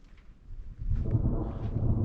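A low rumble of thunder rolls in during a rainstorm over northeastern Hail and Qassim, building from faint to loud and sustained with no voices over it.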